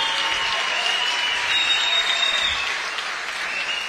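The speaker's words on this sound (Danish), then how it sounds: "så med kæmpe bifald op i ringen til disse to herrer" Applause and cheering from the crowd at a Thai boxing fight night as two fighters enter the ring, steady, dense and fairly loud throughout without letting up.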